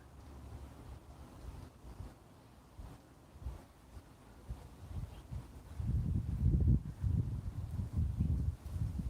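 A Toyota T100 pickup engine revs at about 1500 rpm, a low rumble mixed with wind buffeting that swells louder over the last few seconds.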